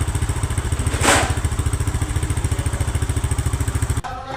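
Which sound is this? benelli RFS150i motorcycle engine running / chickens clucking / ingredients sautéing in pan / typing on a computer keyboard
benelli RFS150i motorcycle engine running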